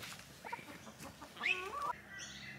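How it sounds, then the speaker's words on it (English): Chickens clucking in a backyard garden, a few close, short squawks and clucks in quick succession with light background noise. "Naughty chickens."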